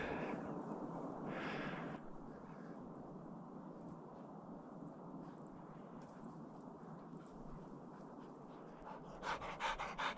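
Hunting dogs panting heavily in deep snow on a hare hunt in Finland, a quiet, steady breathy rush with a louder burst at the start and crunchy movement near the end.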